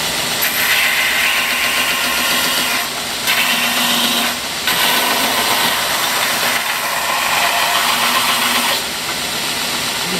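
A Porter Cable 8-inch belt sander, model G8, grinds a workpiece with a loud, close, continuous motor roar, dipping briefly several times as pressure on the piece changes.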